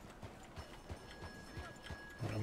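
Rhythmic clip-clop of horse hooves trotting at a steady pace in Red Dead Redemption 2, moderately close, with faint ambient tones and no speech.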